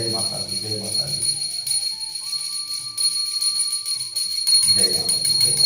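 A hand bell rung during a Mata Kali puja at home gives a continuous bright, high ringing that carries through the whole stretch, sitting beneath a voice that speaks or chants.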